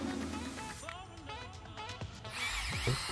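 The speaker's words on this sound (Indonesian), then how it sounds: "Menggunakan mata bor auger 19 mm masih terlalu mudah untuk bor ini." A Gidly cordless brushless impact drill bores with a 19 mm auger bit, its motor whirring and straining in short bursts, with a higher-pitched spin near the end, while a person talks over it.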